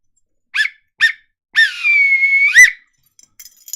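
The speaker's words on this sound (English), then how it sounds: "the full-time whistle is about to blow" Full-time football referee's whistle: two short sharp blasts followed by one long sustained blast that rises at the end, loud and close, with no talk.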